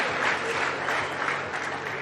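Pool crowd at a 9-ball US Open championship giving ironic applause, a continuous wash of many clapping hands at moderate level for a couple of seconds.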